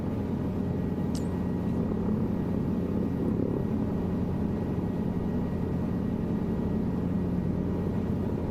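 Helicopter in Microsoft Flight Simulator 2024 flying steadily, a continuous loud rotor and engine drone with heavy low rumble holding at an even level throughout, no voices.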